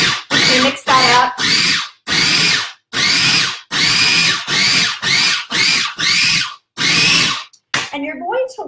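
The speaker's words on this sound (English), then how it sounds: "So I'm just going to chop. It'll be loud just for a minute." Food processor chopping an almond-milk cheese appetizer mixture, in a rapid series of loud whirring pulses with short gaps between them, close and harsh, ending with a few softer clatters as the bowl is handled.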